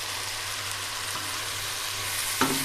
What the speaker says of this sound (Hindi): मसालों के साथ अच्छी तरह भून लेंगे